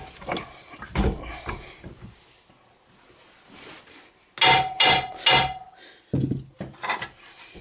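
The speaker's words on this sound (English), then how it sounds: "Pull the axle out of the way. And out she is." A front axle is pulled out of the wheel hub of a 2008 Dodge Avenger during lower ball joint replacement. Close, sharp metallic clunks and knocks come in uneven bursts with quiet gaps between them.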